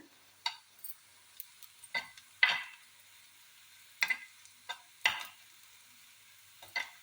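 Onions frying until brown for a prawn curry, with sharp, scattered scrapes and knocks of a spoon stirring the pan over a quiet, faint background.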